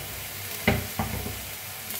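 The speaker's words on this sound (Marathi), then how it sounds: "आता मिक्स करून मटकीला भाजून घेऊया।" Matki sprouts roasting in oil in a kadhai give a soft sizzle, with two distinct scraping stirs of a spoon against the pan in a quiet kitchen.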